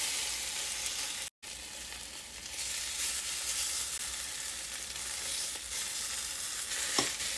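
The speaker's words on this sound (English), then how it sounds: "we're gonna give our French toast a little flip" Chocolate chip French toast frying in a pan, a steady close sizzle that cuts out for a moment and resumes, with a faint scrape of a spatula near the end.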